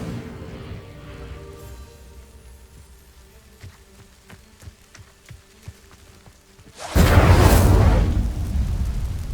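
An Incendio fire spell igniting dry vines in Hogwarts Legacy: after several seconds of quiet ambient tones and small ticks, a sudden loud whooshing burst of flame erupts and keeps roaring to the end.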